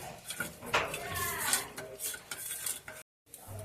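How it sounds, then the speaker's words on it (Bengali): A spoon scrapes and clinks against a bowl while roasted spices are mixed for phulki, with brief pauses between strokes and faint talk in the background. "এবার আমি সবকিছু ভালো করে মিশিয়ে নেব"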